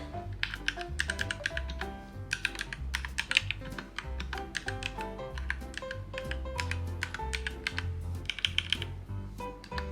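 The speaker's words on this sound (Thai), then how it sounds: "ทดลองพิมพ์กับ iPhone ดูนะคะ" Rapid, steady keystrokes clatter continuously on a keyboard with a wooden case and Tiramisu keycaps, close and alone, with a few sharper clacks rising above the run.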